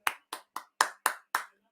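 One person claps six sharp, evenly spaced times to cheer a player's big block while watching a Steelers versus Bears football game. The claps are close and crisp, with no crowd and no talk.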